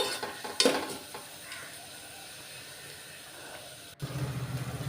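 Onions with salt frying in a pan for a brinjal and ridge gourd curry, stirred with a crisp scrape early on, then a steady low sizzle that grows louder near the end; no talking.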